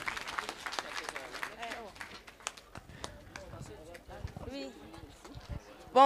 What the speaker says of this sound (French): Des applaudissements pour l'accompagner, s'il vous plaît